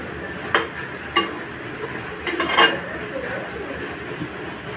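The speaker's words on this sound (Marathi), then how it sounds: "उपमा छान असं आलटून पलटून घेते व्यवस्थित" Upma being stirred and turned in a pan, with a few sharp metallic clinks of a spoon against the pan scattered over soft scraping, close and moderately loud.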